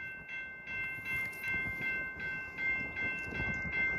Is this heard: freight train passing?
yes